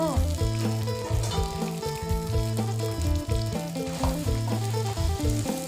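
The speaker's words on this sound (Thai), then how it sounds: "เราก็เอาเส้นหมี่ที่เราคลุก ซีอิ๊วดำไว้ ลงเลยค่ะ" Rice noodles coated in dark soy sauce fry in a pan, giving a steady sizzle that runs under loud, continuous background music.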